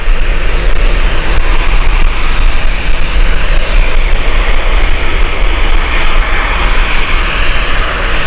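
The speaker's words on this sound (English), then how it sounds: "She's close, Emirates. She is close. She's currently 400 feet and descending" An Emirates jet airliner roars loudly overhead while descending to land at Gatwick Airport, a sustained, dense engine rush that stays strong and close throughout with no voices.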